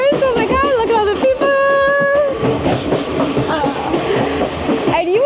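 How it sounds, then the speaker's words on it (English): A passenger train in Sri Lanka rumbles along with a steady, loud rattle of the carriage, and a long horn blast rises above it while people talk and call out nearby. "We have been on this train now for 6 hours."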